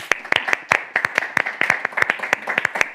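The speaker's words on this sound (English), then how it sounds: "So let's give John Auger a round of applause" An audience at a celebration event applauds John Auger with dense, close, uneven clapping that stays lively throughout and has sharp individual claps standing out.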